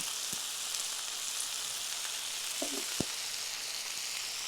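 Brinjal sautés with turmeric and other spices in a pan, producing a steady hissing sizzle with a few faint knocks and one sharper tap. No voices are heard.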